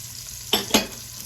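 Celery and onions tossed into hot grease in a pot, two sharp sizzling bursts as the vegetables hit the fat, then a low steady fry.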